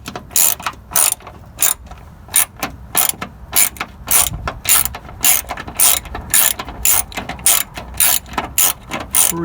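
Hand ratchet loosening a 10 mm bracket bolt near the ABS line on a Toyota Camry 3.0L V6, a series of loud, close clicking bursts in a steady back-and-forth rhythm.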